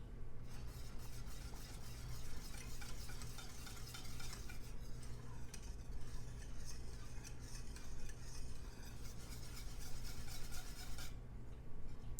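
A whisk scrapes and stirs continuously through thickening chocolate fudge mixture in a pot, a steady close, busy rasping with no talking.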